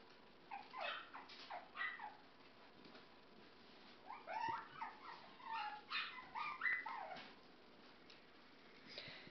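A newborn puppy whimpers and squeaks in a string of thin, high, wavering cries, fairly close but faint, with irregular short bursts and small pauses between them.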